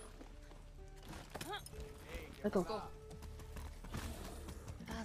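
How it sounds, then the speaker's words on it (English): Horse hooves clip-clop in the Far Cry 6 video game, a run of close hoofbeats mixed with game sounds while someone speaks briefly over them. "That's a good horse."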